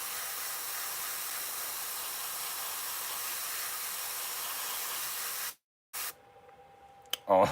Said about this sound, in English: This is going to be the first time the Stencil's even been sprayed.